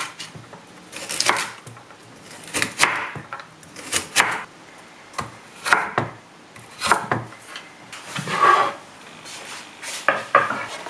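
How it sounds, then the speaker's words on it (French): A carrot is peeled and chopped into small cubes on a cutting board, with irregular knife strokes and scraping sounds arriving in uneven bursts, close and fairly clear, with no talking. "Ensuite, épeler une carotte et la couper en petits cubes."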